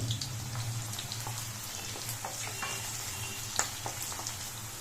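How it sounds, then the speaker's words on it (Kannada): Cut green chillies fry in a pan of hot oil for veg fried rice, giving a steady close sizzle dotted with small crackles and pops over a low hum, with no talking. "ಹಾಕೊಂಡು 1 ನಿಮಿಷ ಚೆನ್ನಾಗಿ ಫ್ರೈ ಮಾಡ್ಕೊಳ್ಳಿ."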